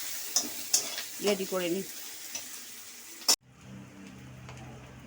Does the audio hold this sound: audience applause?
no